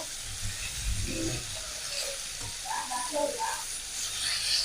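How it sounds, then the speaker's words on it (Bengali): A steady, hissing spatter of oil comes from snakehead fish frying in a pan as it is turned over, with a voice talking over the frying. "মাছ উল্টিয়ে দেবো এক সাইড হয়ে গেছে"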